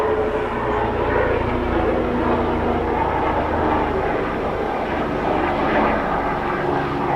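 A sheriff's police helicopter drones overhead after leaving an executive airport, with a loud, steady rumble of engine and rotor noise that barely changes over several seconds.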